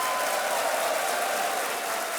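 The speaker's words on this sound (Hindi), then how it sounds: "तालियों के साथ इनका अभिनंदन।" Studio audience applause on the KBC (Kaun Banega Crorepati) quiz show as a contestant wins a prize, a steady dense wash of clapping with a faint crowd murmur under it and no talking.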